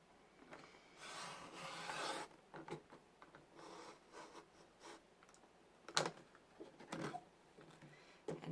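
A blade cuts through photo mat board along a guide, making soft scraping and rasping strokes with a longer drawn-out cut early on and sharp clicks and taps later, all quiet and close.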